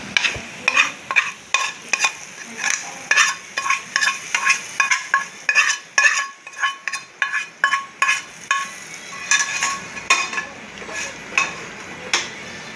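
A cowpea curry cooks in a pan while a spoon stirs it in a quick, regular rhythm, each stroke scraping and clinking against the metal over a soft, steady sizzle.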